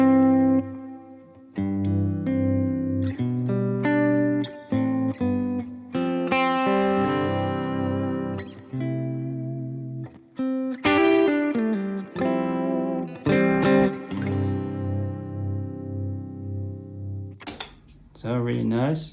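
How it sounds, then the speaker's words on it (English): Electric guitar run through the harmonic tremolo effect of a Line 6 Helix on a pedalboard. Close, sustained chords and melodic notes pulse and waver continuously, and a sharp burst comes near the end. "So at first I'm using the harmonic tremolo."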